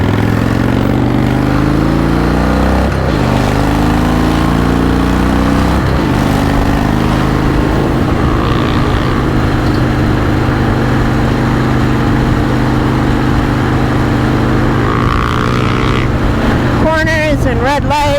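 Traffic sounds surround a Harley-Davidson Dyna on the road: a loud, steady engine rumble and road roar, with passing vehicles whooshing by and a brief high whine near the end.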